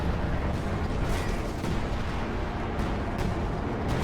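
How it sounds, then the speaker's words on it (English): Assault artillery barrage in the Company of Heroes 2 strategy game, a dense continuous rumble of shelling and booms with sharper blasts around the midpoint and near the end, loud throughout. "over to the left and over here, we hear Ryan Gosling using a assault artillery"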